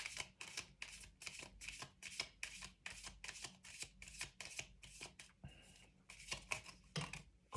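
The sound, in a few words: shuffling tarot cards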